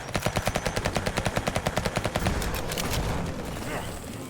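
Rapid automatic gunfire in the game Ultimate Zombie Defense rattles in an even burst of about two dozen shots, followed by a rumbling wash of explosion-like noise.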